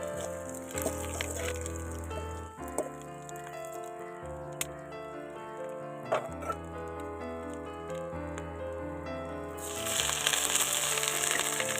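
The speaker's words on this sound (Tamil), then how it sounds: "இந்த கட்டி வச்சு இந்த முடவாட்டுக்கால் கிழங்கையும் இதில் போட்டு நல்லா வதக்கிக்கலாம்" Mudavattukal tuber sautéing in a hot pan with dried red chillies for a healthy soup, a steady close sizzle and crackle that swells louder near the end, with no voices.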